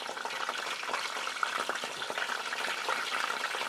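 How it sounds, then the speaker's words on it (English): Pieces of breadfruit, soaked in water beforehand, dropped into hot oil in a pan for Haitian-style frying, giving a steady, close sizzling crackle that stays dense and even throughout. "my oil is ready. So now go ahead and drop in your breadfruits."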